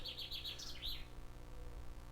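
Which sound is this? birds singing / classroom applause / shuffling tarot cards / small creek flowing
birds singing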